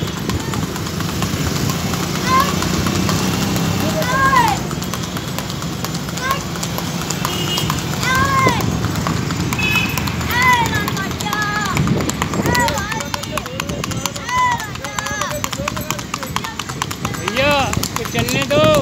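A horse carrying a boy clops steadily along a street in Lucknow, its hooves ringing in a continuous rhythm amid traffic noise and an engine, while people talk over it throughout.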